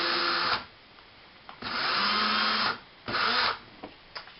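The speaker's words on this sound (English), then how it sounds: "run the drill again to clear out some debris from this side" An electric drill whirs in three separate bursts, each about a second long, with a grinding tone as it bites into a floppy disk, close up.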